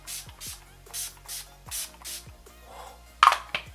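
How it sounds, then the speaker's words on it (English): Urban Decay All Nighter setting spray misted in several quick bursts, a short series of soft hissing puffs close to the microphone, followed by faint handling clicks. "We need setting spray. Urban Decay All Nighter."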